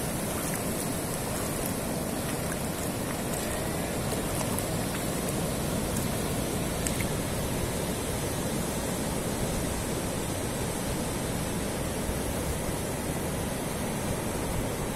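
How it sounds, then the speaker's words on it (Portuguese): Continuous hiss of surf washing over the beach at Praia Grande, São Paulo coast, a steady broad wash of water noise without distinct breaks, no talking. "Fica escutando um pouquinho desse barulhinho do mar"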